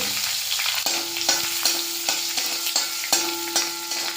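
Dried red chillies and curry leaves frying in hot oil for a roasted-coconut chickpea curry, a loud, dense sizzle with regular scraping strokes of a spoon stirring, about twice a second, heard up close with no talk.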